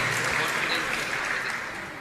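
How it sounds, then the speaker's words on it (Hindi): Audience at a religious discourse gathering clapping for visitors from Delhi, a steady wash of many hands that fades slightly toward the end. "एक बार दिल्ली से अपने बीच में जो आए हैं उनके लिए जोरदार जोरदार ताली बजा दें"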